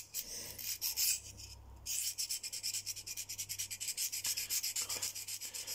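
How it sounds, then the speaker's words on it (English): A knife blade is drawn by hand across a sharpening stone in steady rhythmic strokes, a close, quiet rasping scrape repeating evenly with no talking. "you can feel whether a knife's got a good enough blade on it when you're sharpening"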